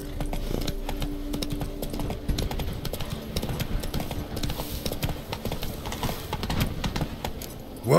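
Steady clip-clop of Roach's hooves as Geralt rides in The Witcher 3, a continuous even trot on hard ground, close and clear with faint ambient game sound beneath.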